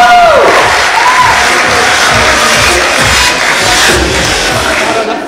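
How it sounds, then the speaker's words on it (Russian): Audience at a KVN comedy league event in Khasavyurt applauding a debut college team, loud sustained clapping and crowd noise throughout, with a brief whoop at the start. "Команда колледжа Нанапо Айболит, аплодируем еще раз нашим дебютантам"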